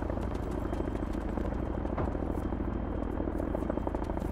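Helicopter in the Arma 3 military game, a steady rapid rotor thump with engine drone, moderately loud and continuous, no voices.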